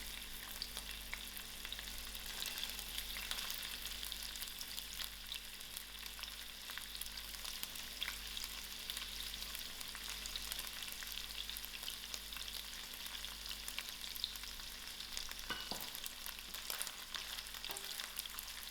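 Mushrooms fry in oil with a faint, steady sizzle that runs throughout, broken by an occasional soft clink of a utensil; no voices.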